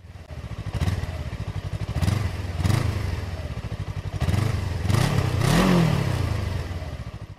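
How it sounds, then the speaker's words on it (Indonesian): Suzuki Inazuma twin motorcycle with dual exhaust revving repeatedly, a deep burbling engine note rising and falling in several throttle blips, loud and close with no talking. "knalpot gandanya membuat motor ini memiliki ciri khas suaranya tersendiri"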